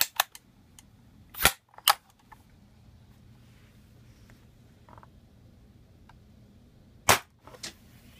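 A JG M70 airsoft rifle fires .20 g BBs: a few sharp, isolated snaps, two close together early and another burst later, separated by near silence.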